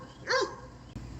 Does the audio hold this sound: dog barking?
yes